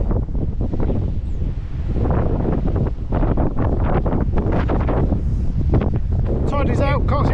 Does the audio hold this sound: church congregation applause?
no